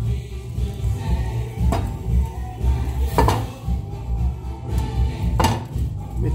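Metal pot and pan clatter as drained Barilla mezze maniche pasta goes back into the cooking pot, with a few sharp knocks and clinks over a steady low kitchen rumble.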